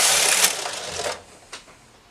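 Domestic knitting machine with a punch card engaged, carriage selecting every other needle: a loud mechanical rattling clatter for about a second, then a quieter tail with a single sharp click near the end.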